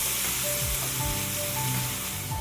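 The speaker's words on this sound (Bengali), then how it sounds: "এখন আমি মশলাটা ভালো করে কষিয়ে নেব।" Spice paste for pabda fish kalia sizzling steadily in a pan with a little water, a dense continuous hiss close by, with faint scraping from stirring underneath.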